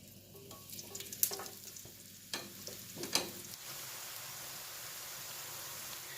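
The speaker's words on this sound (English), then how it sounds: "we're going to start frying our tortilla strips" Oil sizzles and crackles steadily as tortilla strips fry, with a few clinks and stirring knocks early on before settling into a constant hiss.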